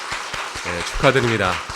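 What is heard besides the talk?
congregation applause congratulating ordained elder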